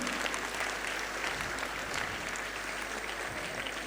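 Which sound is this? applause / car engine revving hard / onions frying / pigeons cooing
applause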